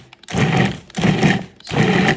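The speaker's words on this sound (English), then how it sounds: "I'm gonna mix it up in my Cuisinart, which is the best machine to make pie crust with" Cuisinart food processor pulsing butter, flour, salt and sugar for pie crust, three loud whirring bursts of about half a second each separated by brief pauses, close by with no talk.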